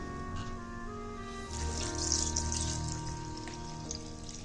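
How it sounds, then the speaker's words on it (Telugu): Milk is poured into a blender jar for an Oreo milkshake, a soft, continuous liquid splash that swells briefly in the middle over a steady background hum. "నెక్స్ట్ మనం 2 గ్లాసెస్ ఆఫ్ మిల్క్ వేస్తున్నాను"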